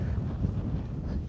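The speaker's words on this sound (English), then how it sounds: "Oh, it's windy." Strong wind buffets the microphone in a low, rumbling roar in the mountains of Mendocino, California, gusting unevenly and close up, with no voices.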